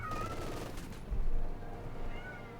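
A pet cat named Basil meows for attention in the background, faint and brief, under loud rumbling battle sounds of gunfire and vehicles from a Company of Heroes 2 match.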